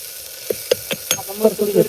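Ground masala paste for stuffed eggplant sautés in a pan, a run of quick sharp scrapes and taps from a spatula giving way to a low continuous sizzle, close and fairly loud.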